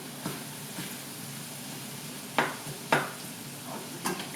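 A spatula scrapes and clinks against a pan while shrimp paste rice with bagoong is stirred, giving a few distinct knocks over a soft, steady sizzle, close up and with no talking.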